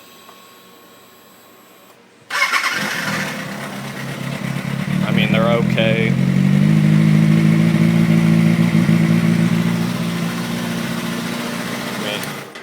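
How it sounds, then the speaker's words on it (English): A 2007-08 Kawasaki ZX6R with its stock exhaust starts up after a quiet moment and settles into a steady, fairly loud idle with slight revving, while someone talks briefly over it. "And here's the stock exhaust on what they sound like."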